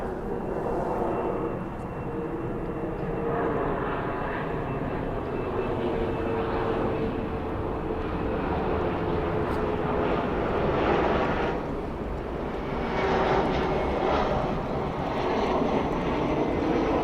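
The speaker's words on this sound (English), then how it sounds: "we'll finish off with another aeroplane." A fixed-wing aeroplane flies overhead, its engine a steady broad roar that swells and fades gently over the pass, loud and continuous with no voices.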